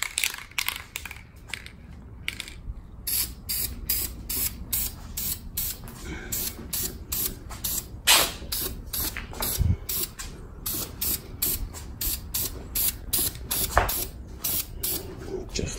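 Short bursts of aerosol spray paint hiss repeatedly across a painted art piece, close and fairly steady, in quick on-off pulses with light handling noises between them.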